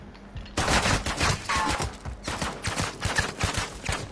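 Shotgun fire in a video game, with a dense run of sharp, loud blasts arriving in quick succession amid a chaotic firefight for several seconds.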